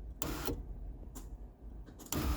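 Up close, the sunroof motor of a Ford F150 runs in short bursts of buzzing whir, three separate pulses with quieter gaps between. No voices.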